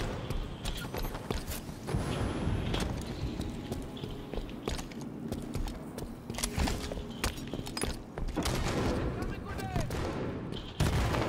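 Constant gunfire and rapid shots from Halo 5: Guardians multiplayer combat, sounding as dense overlapping bursts and impacts that never let up, with a player's voice talking over the action.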